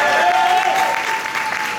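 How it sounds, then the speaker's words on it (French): An audience applauding at a corporate brand launch event, dense steady clapping filling the room with no break. "Ah, mais je pensais que vous devez applaudir."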